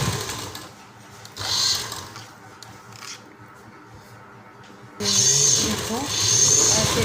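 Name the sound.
sewing machine stitching a pant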